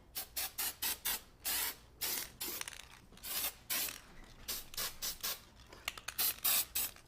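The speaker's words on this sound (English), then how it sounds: "I can spray just a little bit of that to add a little bit of glitter on everything." A Design Master silver glitter spray can is sprayed in many short, sharp hissing bursts in an uneven rhythm, close and fairly quiet, with no talking.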